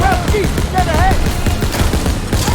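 Rapid bursts of MG42 machine-gun fire in Call of Duty WWII, Operation Cobra mission, a dense continuous rattle of shots, loud and close, with excited voices talking over it.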